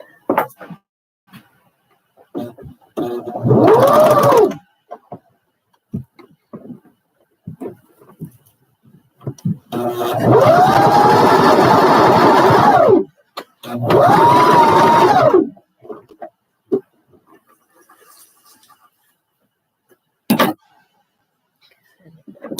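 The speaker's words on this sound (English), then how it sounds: "So I'm just going to sew this up." A sewing machine stitching fabric in several short whirring runs, close and fairly loud, separated by quiet gaps with faint handling noises.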